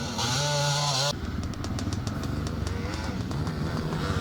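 A 250 Montesa motocross motorcycle engine, with a loud steady rev held for about a second that then drops into a rougher, pulsing engine drone with repeated sharp bursts, on a classic motocross track at Avonbridge.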